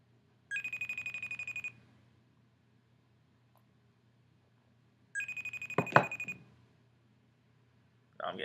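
Two bursts of a FaceTime video call ringtone, a bright repeating electronic chime, each lasting about a second, separated by quiet; a soft knock or thump lands in the second burst and another ring begins at the end.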